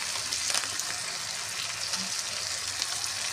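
Cumin powder frying with cabbage curry in a pan, a soft continuous sizzle with faint crackles and a stirring scrape near the end.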